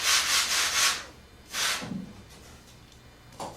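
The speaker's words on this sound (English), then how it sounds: "I'll sand them on my sanding block." Foam pieces scrubbed on a sanding block during moldless composite construction: several loud rasping strokes in a quick burst, a pause, another stroke, then a faint one near the end, with no talk.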